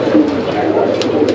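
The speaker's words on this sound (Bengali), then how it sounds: "আমরা এই মুহূর্তে দেখতে পাচ্ছি এখানে আরো এক জোড়া লাহোরি কবুতর" Lahori pigeons in a pair give a soft, low, continuous cooing, close and fairly loud, with a couple of faint higher chirps near the end.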